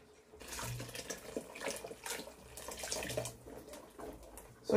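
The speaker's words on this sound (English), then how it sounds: "I will add a little water." Water is poured into a soup pot while cooking black soup with bitter leaf, spinach and crayfish, giving a close, steady splashing pour that runs for several seconds in a kitchen setting.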